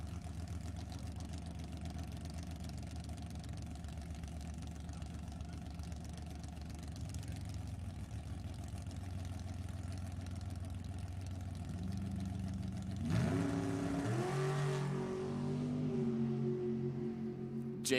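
Drag-strip engines, including an S&W chassis dragster and a 1955 Austin-Healey, at an NHRA Summit Racing Series Division 7 E.T. finals. A steady, distant idling drone runs throughout, then the engines rise sharply in pitch and volume near the end as the cars launch.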